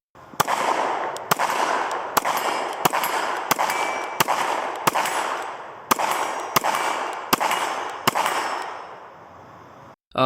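Shots from a Glock 19 Gen 3 pistol fitted with an MCARBO short-stroke trigger, about a dozen sharp, loud reports at a steady pace over a reverberant outdoor wash.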